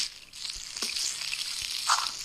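Food sizzles in a pan in the Toca Kitchen video game, a steady hissing fry that runs without a break through the clip, with no voices over it.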